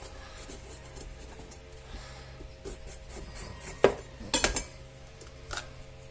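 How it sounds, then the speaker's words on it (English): A knife slices a pepper on a wooden cutting board in a kitchen, giving a few close, crisp cuts and scrapes clustered together after a quiet stretch, with no talking. "I'm going to slice a bit of pepper"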